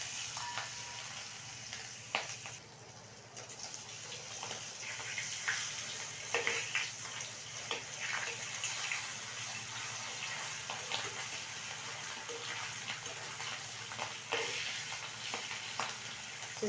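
Hilsa fish pieces fry in a pan of oil with bay leaves, giving a faint, steady sizzle broken by soft clinks and scrapes as the pieces go in one by one.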